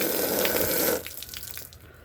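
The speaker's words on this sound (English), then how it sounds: "Water just runs right off of it." Water pours steadily onto waterproof hoodie fabric, a loud broadband rush that cuts off after about a second, leaving softer scattered dripping and splashing.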